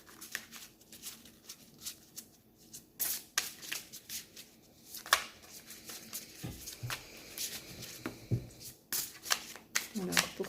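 Oracle cards are shuffled and drawn during an evening card reading, making repeated crisp riffling and slapping bursts with irregular rhythm, close and fairly quiet, with soft talk alongside.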